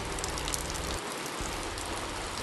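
Steady rain hisses evenly throughout, a dense wash of drops on surfaces with no voices.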